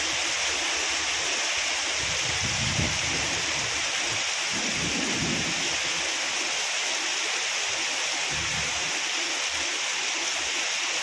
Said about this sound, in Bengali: এত জোর বৃষ্টি হচ্ছে হায়দ্রাবাদে